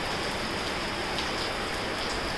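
Heavy rain pours outside a flat in Mira Road, a constant loud broadband hiss of drops on surfaces with no breaks or voices.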